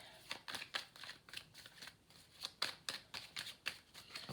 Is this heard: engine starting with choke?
no